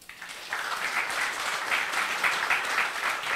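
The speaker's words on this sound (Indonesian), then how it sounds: "Sekali lagi tepuk tangan untuk mereka" A church congregation at a Sunday service breaks into sustained applause, a dense steady wash of many hands clapping that swells after a brief quiet start and holds loud throughout.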